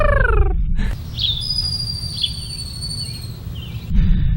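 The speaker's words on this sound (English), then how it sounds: "that is the sound of the ground squirrel's warning call," A ground squirrel gives a warning call of thin, high chirps and sustained whistle-like tones over a low, rumbling outdoor background.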